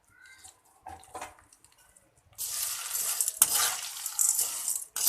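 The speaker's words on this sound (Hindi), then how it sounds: "तो अब इसमें मैं डाल देती हूँ ये सवैयाँ।" Thick vermicelli drops into ghee in a wok and is stirred to roast, quiet clinks at first, then a loud close sizzle with scraping.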